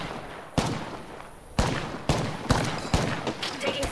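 Video game gunfire in a sci-fi shooter, a series of sharp shots and impacts cracking out at irregular intervals over a steady background hum.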